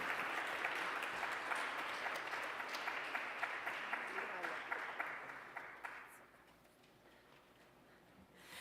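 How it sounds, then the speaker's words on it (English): A crowd at an outdoor Los Angeles walk against human trafficking gives supervisor Lindsay Horvath warm applause. Dense, sustained clapping fills the first six seconds, then fades away quickly and leaves only quiet background. "please give a huge round of applause to the most amazing supervisor ever"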